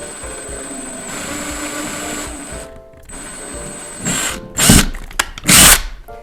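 Power drill boring a small pilot hole into a home's wall for anchors, a sustained close motor whine in two runs, followed by louder bursts of drilling and grinding with short pauses between.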